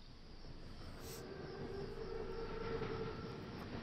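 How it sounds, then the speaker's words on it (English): An armored train rolls past in a World War II combat game, a continuous low rumbling clatter of wheels with a faint high tonal whine, moderately quiet and steady, with no voices. "Train's right on time."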